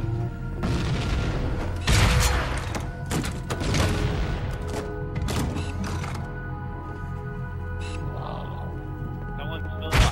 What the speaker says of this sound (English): I have a rocket launcher.